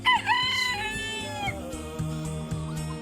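Close, loud rooster crowing opens, followed by clucking and squawks from several chickens at a busy poultry market in L'Aigle, France.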